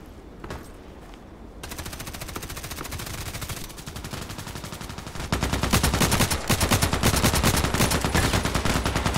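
Rapid bursts of automatic gunfire from the Contract Wars shooter game, starting with scattered shots and building into dense, continuous sustained fire that grows louder toward the end.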